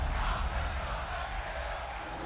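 A wrestling arena crowd in WWE 2K23 roars steadily at an NXT Roadblock event, a dense, sustained murmur of voices with faint commentary or talk mixed in.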